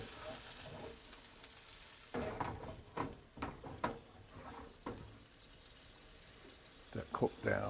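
Wine, shallots and garlic simmer and sizzle in a pan, a steady low frying hiss with scattered clinks and stirring scrapes, while someone talks over it in bursts.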